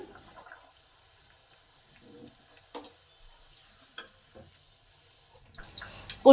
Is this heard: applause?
no